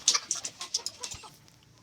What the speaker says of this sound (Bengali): চলুন বাকি মুরগিগুলি দেখাই